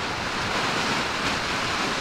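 Strong wind gusts outdoors in rainy weather, a steady, loud broadband roar buffeting the microphone, with no voices over it.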